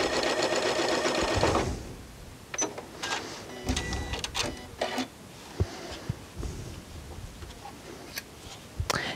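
A Janome Horizon 9400/9450 sewing machine stitches across a quilt seam in a quick whirring burst, then falls to sparse ticks and clicks of the mechanism.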